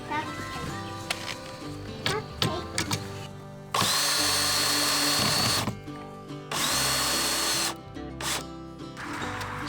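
A power drill drives big screws into a wooden bat house in loud, close bursts of a few seconds each, with children talking and short clicks between the runs.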